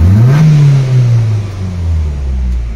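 A Mitsubishi Cedia car engine revs up in one loud, rising burst, then settles into a steady idle hum that dips and swells, close to the microphone with no talking.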